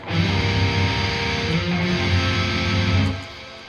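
A distorted electric guitar sounds a sustained interval that shifts and resolves into a more stable chord, loud and gritty, before the notes cut off near the end.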